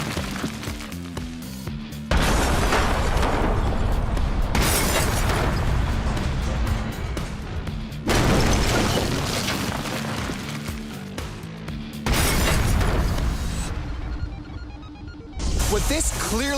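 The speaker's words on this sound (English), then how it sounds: "This was an explosion." A gas heater explodes in the video game House of Hazards, with several loud, sustained blasts of crashing noise separated by brief quieter gaps.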